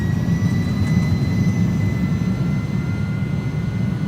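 Jet engines of an Airbus A300-600F at takeoff power in the X-Plane 11 flight simulator roar as a loud, steady, continuous rumble with a faint high whine on top.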